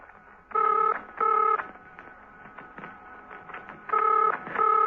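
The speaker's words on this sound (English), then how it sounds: "Steed's telephone was ringing." A telephone rings in the classic double-ring pattern: two short bright bursts, a pause, then another pair, loud and close in a quiet room.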